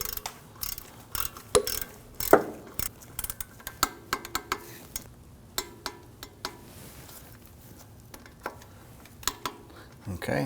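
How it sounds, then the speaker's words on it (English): Carrier bearing bolts on a 2009-2017 Volvo XC60 with a 3.2L six are torqued to spec with a ratchet-style wrench, giving quiet, scattered clicks and sharp metallic ticks at close range against a low background. "I'm going to torque down these carrier bearing bolts to 17 foot-pounds."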